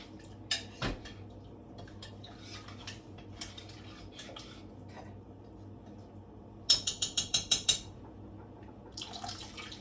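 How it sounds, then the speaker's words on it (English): Seasonings stirred into a pot during a long roast preparation, with a spoon clinking and scraping against the pot in short bursts, including a quick run of rhythmic taps, over a quiet kitchen background. "And we're just going to stir that in there a little bit."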